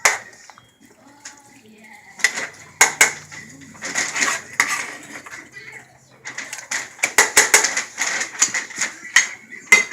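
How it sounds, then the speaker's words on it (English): Utensil scraping and clattering against a pan while Hamburger Helper is mixed into oil, irregular metallic clinks and scrapes near and fairly loud, with a voice talking at times. "Just going to mix with that oil."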